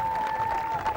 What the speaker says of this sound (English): Crowd responding.